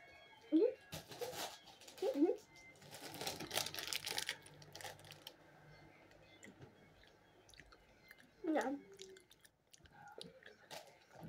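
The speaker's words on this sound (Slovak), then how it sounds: "Toto mať sa dlho žuje, ne?" Someone chewing a long-to-chew food, with several distinct close bites and mastication bursts spaced apart, quiet overall, along with faint rustling and clicks in between.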